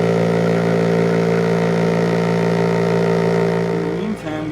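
A tumbler churns shotgun slugs with red powder coat, giving a loud, steady mechanical drone with a constant motor hum and rumble that runs throughout, easing briefly near the end.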